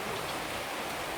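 Steady rain hisses evenly over an estate in Gambia at the start of the rainy season, a dense close wash of drops with no other sound.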